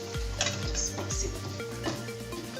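Fish sauce being stirred in a pan, with a steady sizzle and a few soft scraping strokes in a short even run, no talk.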